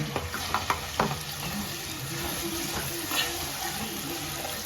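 Masala paste frying in hot oil with garlic and a pinch of hing in a home kitchen, a steady soft sizzle with a few sharp stirring clicks and scrapes near the start, fairly quiet.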